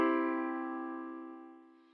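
A single piano chord struck once and left to ring, its bright full harmonics fading steadily over about two seconds with no voices.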